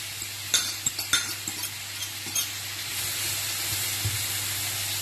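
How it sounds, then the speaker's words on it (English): Onions hit melted butter in a meat pan and sizzle steadily. Several light clinks of a utensil sound early on, then a louder, even hiss takes over in the second half. "I'm going to add more butter. Okay, so I'm adding butter. I'm going to cook the jus in the same pan. Okay, so, and then I'm adding the onions."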